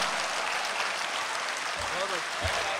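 Sustained audience clapping at a mushaira in Dubai, a dense steady patter of many hands filling the hall, with a few low thumps near the end.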